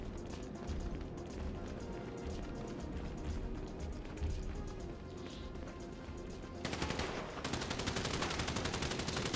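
Weapons fire in GTA 5 Online during a ULP Cleanup mission, where a player is using a grenade launcher. Rapid, rough bursts of gunfire and blasts play through a steady game mix at low overall volume and grow denser and harsher near the end.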